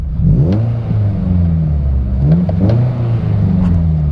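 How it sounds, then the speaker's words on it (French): A Morgan Plus 4 sports car engine revs hard through two accelerations, its original exhaust rising in a deep, throaty sweep each time, loud and close. "il s'agit de l'échappement d'origine de cette voiture"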